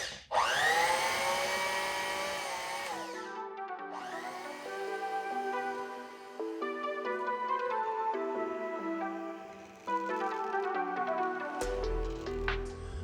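An electric mixer whirs steadily while beating powdered sugar frosting, its motor pitch dipping and rising as it works, with a short bump and rattle near the end.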